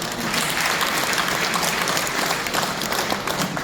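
An audience at a lecture applauds loudly and continuously, a thick, even burst of clapping from a crowd that holds steady for the whole stretch with no talking over it.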